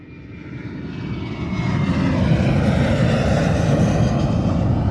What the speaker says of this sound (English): there it is, the big bird, the big plane coming into Hong Kong Airport